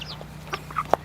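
Silkie rooster and chickens close by give short, scattered clucks and chirps, a few soft calls leading to one louder squawk near the end, over a steady low hum.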